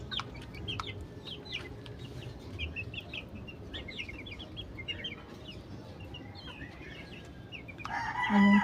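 Several chickens cluck in a busy, scattered chorus at moderate distance, and a rooster crows loudly close by right at the end.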